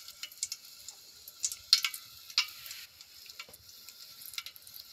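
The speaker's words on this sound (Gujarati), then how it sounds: "તમારે ઓરાનો વઘાર મારી દેવાનો" Spice tempering sizzles faintly in hot oil for an eggplant oro dish, with onion, garlic and greens in the pan, giving a soft, steady crackle with small spitting pops and no talk.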